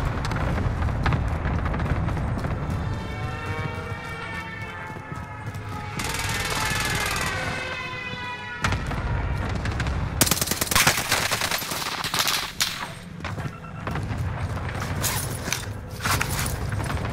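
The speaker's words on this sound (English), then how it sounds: "Cluster strike is active." Heavy, dense rumbling blasts from a Call of Duty: Warzone cluster strike roll on almost without a break, loud and close, mixed with rapid gunfire-like crackle and bursts of noise.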